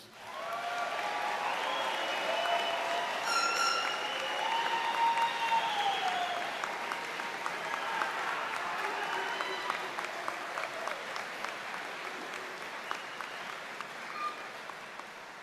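Commencement crowd applauds graduates in a large venue, broad sustained clapping mixed with whoops and high cheering voices, gradually thinning toward the end.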